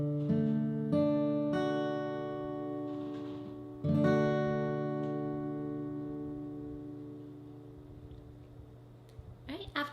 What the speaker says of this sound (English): the first chord you need to know is D, which looks like this and sounds like this.